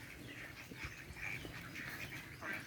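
Ducks on a small farm, with many young male ducks kept together, give a steady chorus of quacks and calls close by, with no talk over them.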